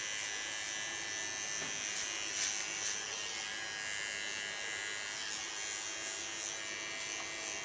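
A small electric hair clipper trimming the nape at a hairdresser's, giving a steady, quiet, continuous buzz with no pauses and no voices.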